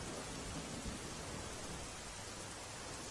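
Heavy monsoon rain in Gujarat pours as a steady, dense hiss with no breaks, fairly faint and distant-sounding, with no voices.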